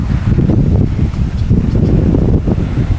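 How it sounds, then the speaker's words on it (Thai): Cool sea wind blowing steadily past the microphone on a fishing community's seaside pier in Ao Khram, Sawi, Chumphon, a loud continuous rumbling buffet with gusty swells and no break. "ลมเย็นนะครับ"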